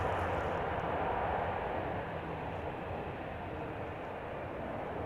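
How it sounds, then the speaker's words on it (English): Airliner landing at Amsterdam Schiphol Airport with reverser slots opened but no reverse thrust applied, a steady broad jet roar rumbling at moderate distance throughout, slowly easing in loudness. "it seems like they are only using the added drag from opening up the reverser slots instead of actually applying reverse thrust"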